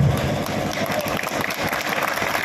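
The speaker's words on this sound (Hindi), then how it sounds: "भाई ताली बजाओ, ढंग से बजाओ, ना बजाओ।" Clapping from a crowd at a protest rally against the UGC Act, a dense, steady burst of hands close by, continuing evenly for a couple of seconds with some voices mixed in.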